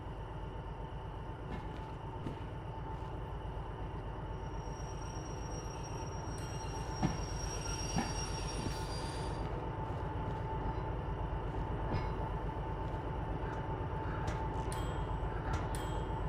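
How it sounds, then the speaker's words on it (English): A running train sits nearby in a steady loud drone of engine and rail noise, with tonal hums and occasional clanks and clicks throughout. "Nothing like servicing a running train."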